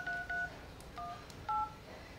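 Keypad button tones from an LG V50 phone: three short, clean electronic beeps pressed one after another, close and clear over faint background hiss.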